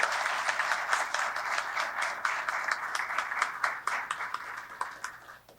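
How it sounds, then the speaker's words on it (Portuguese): Applause at an official ceremony marking Portugal Day, a steady patter of clapping hands from an audience that holds at even strength throughout and then starts to thin out toward the end. "a segunda salva de palmas para a presença da nossa Ministra da Presidência"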